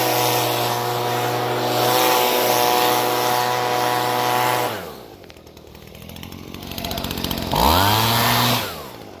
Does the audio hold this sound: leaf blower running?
yes